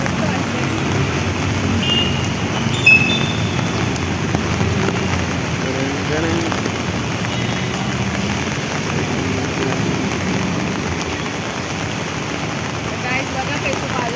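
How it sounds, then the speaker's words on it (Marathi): Steady rain falling outdoors during the monsoon in Mumbai, a continuous dense patter with a brief louder knock near the start, heard close and evenly throughout. "बघा कैसे बारिश लागते याची पूर्ण मौसम आहे"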